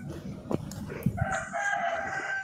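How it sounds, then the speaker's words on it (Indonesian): Rooster crowing nearby, one long drawn-out call rising over a busy outdoor background with faint scattered knocks and noise. "ayam apa yang mau berkokok"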